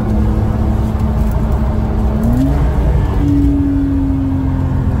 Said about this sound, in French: Alors et puis la sonorité du flat 6